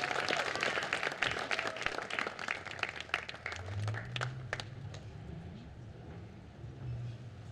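Applause from the audience fills an 8th grade graduation ceremony at Fairmont North Tustin Campus, a dense wash of many hands clapping that gradually thins, with low rumbling room noise underneath.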